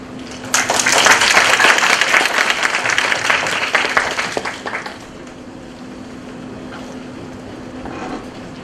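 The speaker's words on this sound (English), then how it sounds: "Let's welcome an applause for Professor Lavonen" Conference audience applauding to welcome keynote speaker Professor Jari Lavonen, a dense burst of clapping that swells quickly, holds for about four seconds, then fades to a quiet room with a steady hum.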